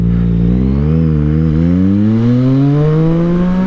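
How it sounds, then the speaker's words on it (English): A 2014 Yamaha MT-09 triple, running a BAUCE Racing ECU flash, revs up loud and close, its engine pitch climbing smoothly through a gear with a brief dip partway before rising again. "That's the first ride on the 2014 MT-09 with the ECU flash from BAUCE Racing"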